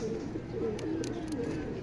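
Racing pigeons coo softly in a training loft after returning from a release at Atimonan, Quezon, giving low, rolling repeated calls close by.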